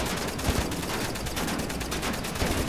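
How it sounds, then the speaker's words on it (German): Gunfire from Wolfenstein: The New Order, a steady wash of distant rapid shots under noisy game ambience, fairly faint, with no talking. "Hört er eigentlich irgendwann auf zu schießen?"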